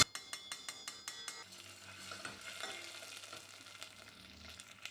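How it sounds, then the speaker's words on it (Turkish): Pepper paste and tomato paste sautéing in oil in a pot for tarhana soup, opening with rhythmic spoon taps against the pot, then a soft continuous sizzle with stirring. "İçerisine yarım yemek kaşığı biber salçası, yarım yemek kaşığı da domates salçası ilave edip güzelce kavuruyoruz."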